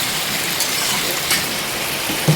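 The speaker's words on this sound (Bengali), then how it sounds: "এই দেখো কি জোরে বৃষ্টি হচ্ছে।" Heavy rain pours steadily outside a home kitchen, a dense continuous hiss with a few brief louder splashes, nearby and fairly loud, with no talking.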